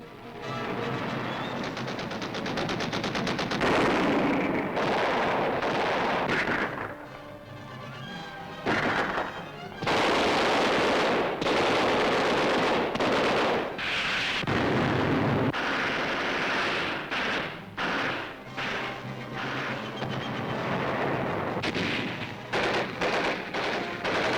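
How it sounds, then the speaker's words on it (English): Gunfire from Marines firing every weapon they have while pinned down at the edge of a lagoon in a World War II Pacific invasion, a loud, dense, continuous barrage of shots and blasts with brief lulls, heard on an archival newsreel soundtrack. "the Marines blast back with every weapon"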